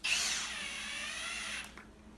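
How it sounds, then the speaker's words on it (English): A power drill drives screws into barn wood for a rustic euro mount: one close, steady high whine lasting about a second and a half, then spinning down and stopping. "just screw them all in"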